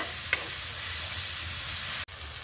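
Onions and spices sautéing in a pan for mutton curry, a steady close sizzle and hiss throughout with one brief clink near the start and a short cut near the end, no talking.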